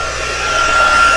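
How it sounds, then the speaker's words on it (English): Steady, close airy roar of a heat gun blowing during heat embossing, a constant whooshing hiss with a faint high whine, no voices. "now you'll have to excuse the noise of the heat gun for just a minute"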